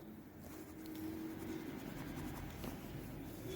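Pencil tip scratching softly across paper while a compass swings an arc in a geometry construction, a faint continuous scraping close by with no talk.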